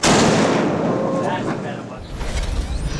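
Cannons fire aboard a superyacht from the Vitters Shipyard, a loud booming blast at the start that rolls into a long rumbling decay, then gives way to mechanical clatter and wind-like noise.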